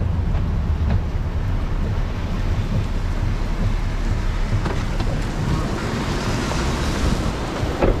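Steady, loud rain pours outside beside a Chevrolet Cateye Z71 truck, a dense broadband wash with low rumbling that could be distant thunder, continuous throughout.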